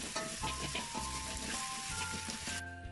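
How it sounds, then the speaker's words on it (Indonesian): Chili spice paste sautéing in a pan for bakso mercon, a close, steady sizzle with stirring scrapes under a faint background hum. "Nah ini saya tumis sampai bumbunya sedikit kering, sampai matang."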